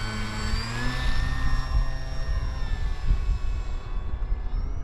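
A DuraFly Tundra RC plane takes off, its electric motor holding a steady, loud whine with droning harmonics that shift slightly in pitch, accompanied by low rumbling wind buffeting throughout.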